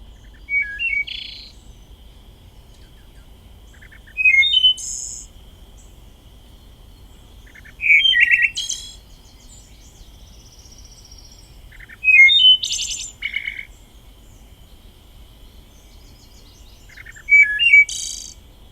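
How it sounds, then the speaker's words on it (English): Five phrases of a wood thrush's flute-like song, each a few clear rising notes ending in a trill, separated by quiet pauses over faint insect hum. "I'm going to play you the vocalization of a wood thrush"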